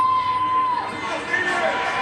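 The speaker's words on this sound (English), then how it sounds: "you hear the chants in the crowd from Kanan" Crowd chanting for MMA fighter Kanan, a popular fighter from Kailua, Oahu, at a Hawaii bout: a steady, dense roar of many voices fills the arena with a continuous, moderately loud wash of crowd noise.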